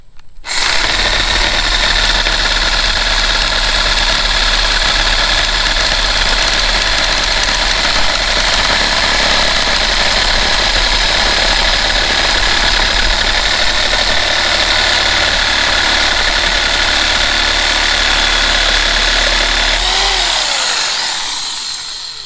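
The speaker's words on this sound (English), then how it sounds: "Jigsaw worked. We were able to cut that." A jigsaw cuts a small piece of lumber while running off a Bluetti EB55 portable power station, giving a loud, steady buzzing motor drone that holds for about twenty seconds before winding down at the end.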